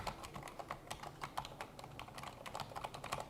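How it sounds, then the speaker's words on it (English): Soft, muted typing on a silent computer keyboard in quick irregular bursts of key presses, quiet and close against a faint background hum. "Let's take a quick listen as I pretend to type here."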